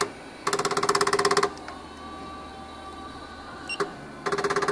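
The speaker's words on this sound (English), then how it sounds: "by pressing this, the feed bar will move." A JUKI LK1900B industrial sewing machine's feed bar drives back and forth in two bursts of rapid, even mechanical clatter, loud and close, with a steady motor hum and a single click between them.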